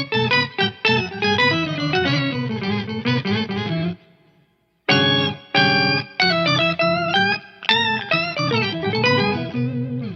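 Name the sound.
guitar octave pedal effect, two octaves down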